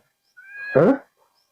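A single short cat meow nearby, rising into a brief strained cry, in a quiet outdoor setting.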